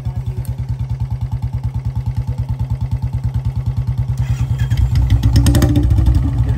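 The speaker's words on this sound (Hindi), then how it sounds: "अब हम आपको दोनों बुलेट की आवाज सुनाते हैं इकट्ठे" Two Royal Enfield Bullet motorcycles, a BS6 and a BS4, idle together nearby with a deep, even single-cylinder thump, then one revs up and the exhaust grows louder and rougher toward the end.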